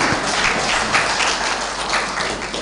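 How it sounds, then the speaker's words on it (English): Audience applause at a summer school closing ceremony in Rwanda, dense and sustained clapping from a crowd, loud and even for the whole stretch with no speech over it. "shall we clap for them for the wonderful work they are doing?"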